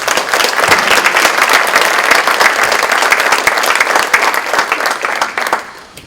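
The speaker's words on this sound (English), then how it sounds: "Let's give them another round of applause." An audience at a high school distinguished alumni awards ceremony gives inductees a loud, dense round of applause, many hands clapping steadily for several seconds before thinning out and fading at the end.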